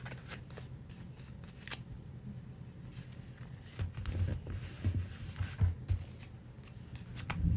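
Paper being trimmed along the top edge of a handmade Field Notes-style booklet, giving steady close rustling and cutting scrapes that grow louder and busier toward the end, with no talking.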